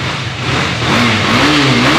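A used 2017 KTM Duke 250 motorcycle's engine revs up loudly and close by, the pitch climbing steadily over about two seconds with no talk.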